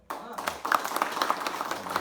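Audience applause at a talk, a short burst of steady mixed clapping lasting about two seconds, fairly close and moderately loud.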